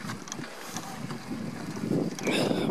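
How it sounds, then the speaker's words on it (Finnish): Wind blows steadily across a beach with a rough, gusty rumble that strengthens toward the end, loud and close on the microphone with no talk. "ehkä nytkin kuuluu, että tässä on melko tuulista välillä"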